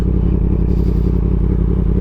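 Motorcycle cruising slowly in circles at low speed, a steady, loud engine burble with a rhythmic low thrum, close by and without talk.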